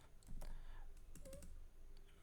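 Soft typing on a computer keyboard while entering Python code, a handful of light key clicks scattered over a low background hiss, fairly faint and close.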